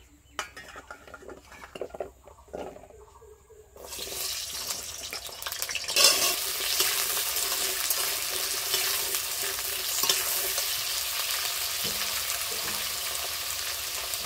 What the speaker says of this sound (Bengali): কড়াইতে আমি এবার সরষের তেল দিয়ে দেবো